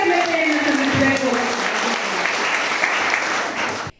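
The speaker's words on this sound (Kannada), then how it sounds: "ನಿಜವಾಗೂ ಆ ತಾಯಿಗೆ ನಾವು ದೊಡ್ಡದಾದ ಒಂದು ಚಪ್ಪಾಳೆಯ ಮೂಲಕ ಕೃತಜ್ಞತೆಯನ್ನು ಸಲ್ಲಿಸಬೇಕು" An audience at a women's event in Bagepalli breaks into loud, sustained applause that fills the room, with scattered voices over it, then stops abruptly.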